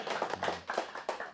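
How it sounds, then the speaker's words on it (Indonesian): An audience claps during a university talk show at IAIN Kudus, a short, faint patter of applause with a few distinct hand slaps in a loose rhythm. "Tepuk tangannya dong betul."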